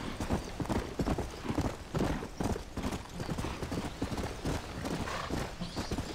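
Rapid clip-clop of horse hooves galloping in the video game Red Dead Redemption: Undead Nightmare, steady and fairly close, with a brief whinny and some background noise; no talking.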